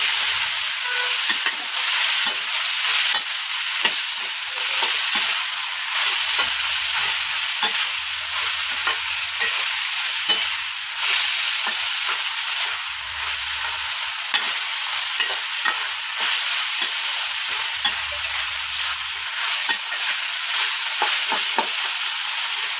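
Snake gourd stir-fried in a pan with onions, a steady loud sizzle running throughout with scraping stirring strokes and occasional low thumps of the spatula against the pan.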